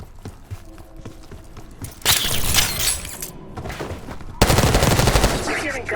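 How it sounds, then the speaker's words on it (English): Gunfire in the video game Call of Duty: Black Ops 6, bursts of rapid automatic shots and crackling impacts that start faint and grow into louder, dense volleys, with low ambient game noise underneath. "You hearing gunfire?"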